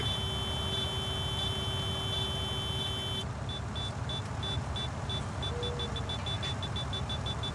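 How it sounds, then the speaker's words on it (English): A steady electronic alarm in a video game beeps in a quick, even pattern over a constant low engine-like hum, with no voices. "it's beeping. Something's beeping"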